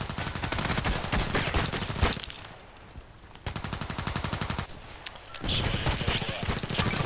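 Gunfire in the online shooter Contract Wars: rapid, loud bursts of automatic shots in a steady rhythm, broken by a brief quieter pause before the firing resumes.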